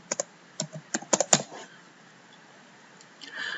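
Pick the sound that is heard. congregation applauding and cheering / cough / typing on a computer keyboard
typing on a computer keyboard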